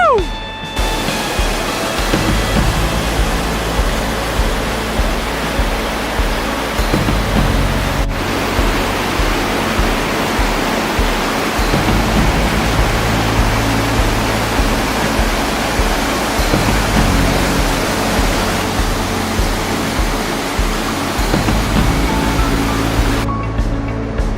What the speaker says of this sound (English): Spray coming off that waterfall behind me